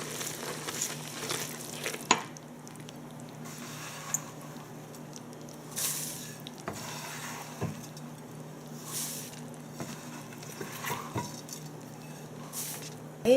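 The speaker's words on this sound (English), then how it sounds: "We're going to mix all of that up really well." Oatmeal and Rice Krispie treat mixture being stirred in a pot, giving soft, sticky squishing and scraping strokes that repeat unevenly, with a few sharper clicks of the spoon against the pot, close and fairly quiet with no talking.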